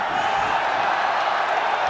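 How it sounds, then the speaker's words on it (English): A packed MMA arena crowd roars after a fighter named Aung lands a strike, a loud, dense, continuous wash of cheering that holds steady for the whole moment. "Every time Aung lands, this crowd goes crazy."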